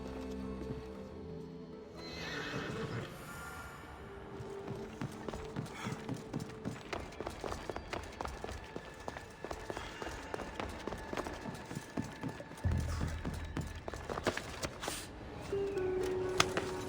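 A horse in Assassin's Creed Odyssey whinnies loudly, then its hooves beat in a steady clip-clop run that carries on through the rest of the scene, with a second sharp neigh near the end.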